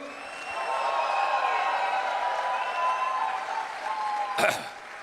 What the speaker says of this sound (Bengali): তাহলে তো হাততালি দেবেন।